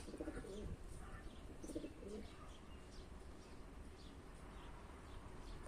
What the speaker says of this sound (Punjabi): ਆ ਦੇਖੋ ਆਪਣੀ ਕਬੂਤਰੀ ਸ਼ਾਕੀ